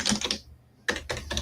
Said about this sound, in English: I'm literally typing in 1 through 0.